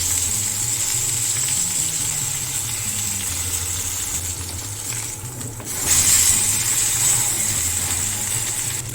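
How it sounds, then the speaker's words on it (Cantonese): The sides of a tomahawk steak sear in a hot pan, a steady loud sizzle with a low hum underneath that swells briefly midway, without speech. "然後煎一煎側邊。"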